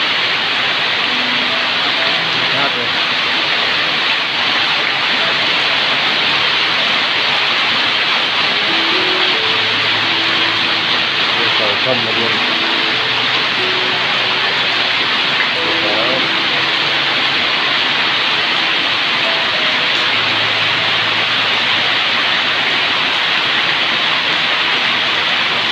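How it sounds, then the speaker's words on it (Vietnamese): Heavy monsoon-season rain pours down in a loud, dense, unbroken hiss during flooding, with faint murmuring voices in the background. "Mưa to không?"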